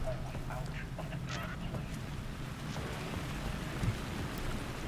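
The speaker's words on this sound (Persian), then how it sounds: "بارون گرفته، صدای بارون که میاد" Steady rain falls in the video game Alan Wake 2, a dense, continuous hiss with low rumbling underneath, holding an even level throughout, with faint scattered background sounds.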